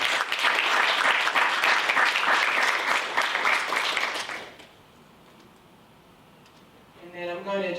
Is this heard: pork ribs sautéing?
no